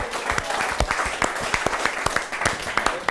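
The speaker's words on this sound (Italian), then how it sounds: "Fai un applauso alla sorpresa del Tompe." Crowd applause from a live audience at a countryside show, a dense run of hand claps steady throughout at close range.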